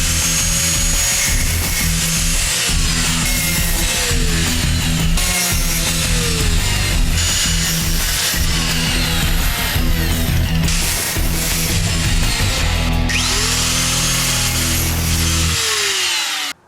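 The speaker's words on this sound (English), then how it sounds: "I'm just going to go through and cut every single one of these heads off of the brake lines" Steady, loud power-tool cutting through the rusted steel brake line fittings of a 1965 Mustang, a continuous grinding hiss with the pitch rising and falling as each fitting is sliced, running unbroken until it stops abruptly.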